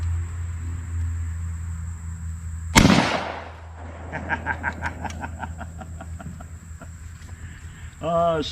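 A single loud 12 gauge shotgun blast at a small drink can target outdoors, a sharp crack followed by a fading echo, with chickens clucking nearby afterward.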